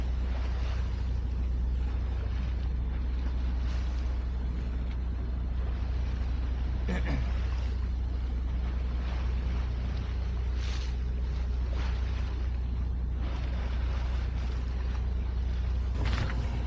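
A sailboat motor-sailing off Islay toward Ballycastle, main and mizzen set, its engine droning steadily beneath wind buffeting the microphone and water washing along the hull.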